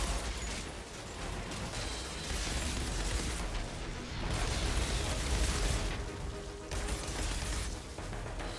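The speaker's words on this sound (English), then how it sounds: "Oh, that was a nice explosion." An explosion in the Outriders shooter video game, a dense, sustained roar of broadband blast noise and crackling combat effects filling the whole stretch at steady loudness, with no voices over it.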